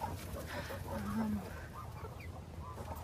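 Chickens in a coop make soft, low clucks and a few brief squawks, quiet and close, over a low background hum with no clear talking.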